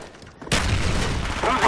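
A frag grenade explodes in the Black Ops video game, a sudden loud burst after a quiet lead-in, followed by a dense rumbling blast that sustains to the end.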